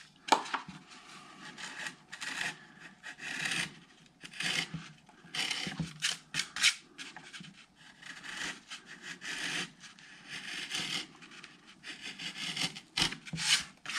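Spruce braces on an acoustic guitar top are carved and tapered by hand, producing close, quiet rasping and scraping strokes in irregular bursts with short pauses between, without any talk.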